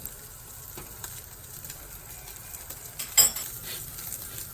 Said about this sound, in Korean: 이것도 전체적으로 한번 더 볶을 거기 때문에